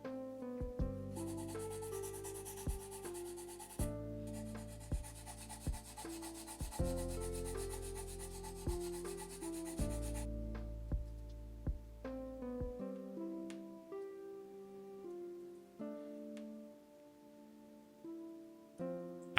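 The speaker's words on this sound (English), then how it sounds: "I started sanding down the edges at an angle to add a bevel to give it that typical Gundam shield design" Edges of a plastic shield plate on an HGUC Zaku II Gundam model kit are sanded at an angle, giving repeated soft, quiet rubbing strokes in an irregular rhythm, heard alone.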